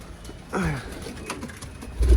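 A wild pigeon gives a soft, low coo nearby, a short rolling call, with faint background noise and a thump at the end.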